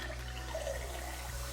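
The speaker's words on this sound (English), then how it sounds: "Less than 6 seconds to fill an entire cup of water." Filtered water running from a smart faucet into a cup, a soft steady trickle over a low background hum, brief and quiet.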